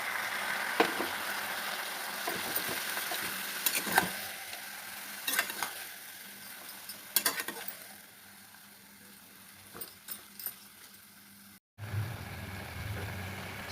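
Washed mutton goes into a pan of frying onions for a Holi-special kosha mangsho, giving a low, intermittent sizzle broken by scattered scraping stirs and clatters, fairly quiet overall with a brief gap near the end.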